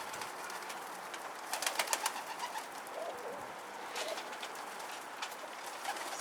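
Feral pigeons coo softly in a few low, repeated bursts over a steady outdoor hiss, fairly faint and somewhat distant.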